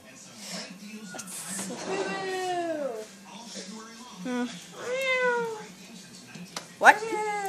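A cat meows repeatedly at close range, giving four or five drawn-out cries that rise and fall, spaced over several seconds against a quiet indoor background.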